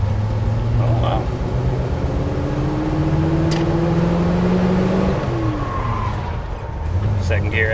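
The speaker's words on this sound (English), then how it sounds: "this thing drives smooth" A 1987 Land Rover Defender drives with its engine running loudly at close range, a steady low hum and rising drone as it pulls through the gears, with people talking inside the cabin.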